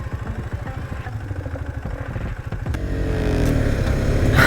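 A new KTM motorcycle engine running up close, with low rough pulsing and clatter that builds into a steadier, louder revving drone in the final seconds.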